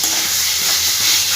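Chicken stir-frying with spice paste for a samosa filling, a loud, dense, steady sizzle close up with faint stirring strokes underneath and no talking.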